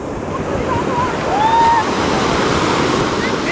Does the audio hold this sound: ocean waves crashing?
yes